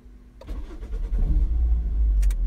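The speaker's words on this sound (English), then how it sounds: "you have to turn on the ignition first" A car engine cranks over with the ignition and catches, rising from a brief starter whirr into a loud, steady idle rumble with a few clicks near the end.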